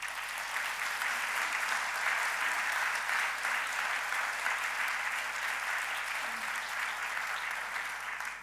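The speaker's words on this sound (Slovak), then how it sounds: "Takže ešte raz všetkým veľký potlesk." Dense, sustained applause from a theatre audience after a folk performance, even and loud throughout, with no voices over it.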